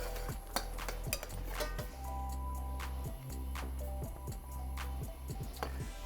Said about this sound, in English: We give it like a really quick stir.